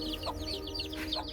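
A mother hen with about six newly hatched chicks in a home garden, giving repeated soft clucks over high, thin chick peeps that chirp continuously and close by.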